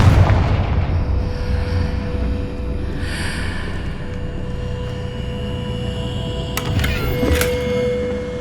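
A Confringo fire spell blast in Hogwarts Legacy lands as a heavy, booming explosion that rumbles and fades out, followed by softer game effects and a couple of sharp crackling hits near the end.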